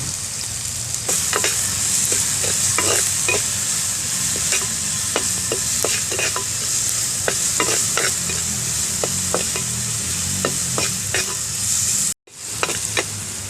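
Onions and tomatoes sizzle and fry in a pan for an egg roast, with a steady hiss broken by repeated scraping stirs, close and alone.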